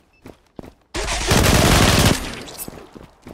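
Gunfire in the online shooter game Zula: a few single shots, then a loud sustained burst of rapid automatic fire lasting about a second, followed by scattered fainter shots.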